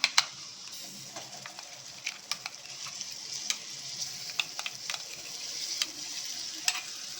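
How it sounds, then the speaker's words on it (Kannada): Ground masala paste frying in oil for a restaurant-style kala chana curry, a steady close sizzle with scattered sharp crackles and occasional stirring scrapes, no voices. "ಇದು ಎಣ್ಣೆಯಲ್ಲಿ ಸ್ವಲ್ಪ ಫ್ರೈ ಆಗಬೇಕು ಮಸಾಲೆ ಫ್ರೈ ಆಗಲಿ"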